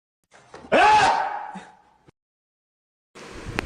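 A single loud, explosive sneeze bursts out and trails off into a breathy fade, followed after a pause by faint rustling.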